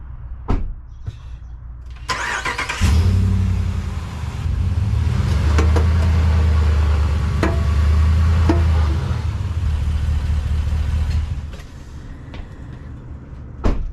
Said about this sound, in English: I'm going to drive it up so I can get underneath it easier.